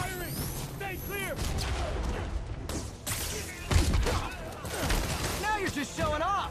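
Gunfire from the Spider-Man PS4 video game crackles in a dense, continuous barrage, with heavier thuds and booms mixed in, while game characters shout over the shooting throughout.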